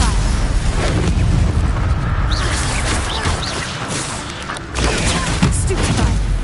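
Stupefy spell impacts in the video game Hogwarts Legacy, dense booming blasts and crashing bursts that layer into a loud, continuous barrage with a brief dip midway.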